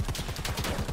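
Machine gun fire in the Predator: Hunting Grounds video game, a loud, close, rapid burst of evenly spaced shots rattling continuously throughout.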